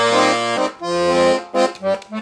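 Deep, reedy bass notes and chords from a Hohner Starlet piano accordion's 40 bass buttons, three reeds in the bass, pump out in a few short bursts, rich and loud, with brief gaps between them.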